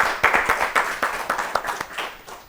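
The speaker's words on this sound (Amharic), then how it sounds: "በደንብ አድርጋችሁ አጨብጭቡላት" Schoolchildren on an Ethiopian television children's programme applaud a classmate in the studio, clapping in a quick, steady rhythm of sharp, fairly close hand claps that runs throughout.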